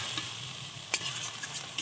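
White mustard paste and spices stirred in a hot oiled pan for a tuna fish curry, a soft, steady scraping with a few faint clicks of the spoon, quiet and alone.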